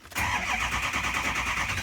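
A truck from Oklahoma with a known number 1 cylinder problem cranks and fires up, then settles into a steady, loud idle close by with a slight uneven miss in its rhythm.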